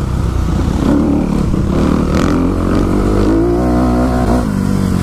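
Dirt bike engine, a CRF or Beta, revving steadily on a motocross track, close and loud throughout with rising and falling pitch as the throttle changes.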